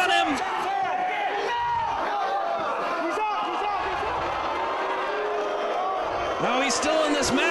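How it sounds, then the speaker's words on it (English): Crowd noise from a wrestling arena rumbles steadily for several seconds, a broad mass of jeering voices with a few sharp louder surges, while a commentator talks over it. "the crowd voicing their displeasure"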